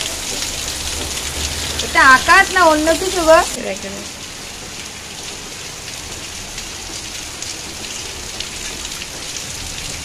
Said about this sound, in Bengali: কি বৃষ্টি হচ্ছে, মনে হচ্ছে যেন সন্ধে হয়ে গেছে